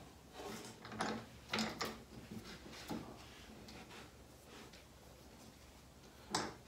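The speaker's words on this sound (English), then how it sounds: "now I'll clamp this piece in place" Clamps are fitted and tightened on a wooden sideboard skirt piece, with faint scattered clicks, ratcheting and knocks at close range in a quiet workshop.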